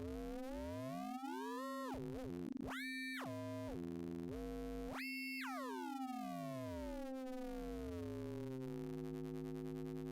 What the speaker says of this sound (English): If I get another oscillator, let it control the amplifier.